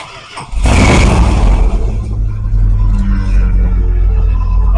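A 1977 Dodge Ramcharger's factory 440 big-block V8 fires with a loud burst, then settles into a deep, steady, loping idle rumble close by, with no talk.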